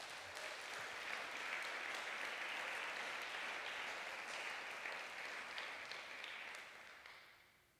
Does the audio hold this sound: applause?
yes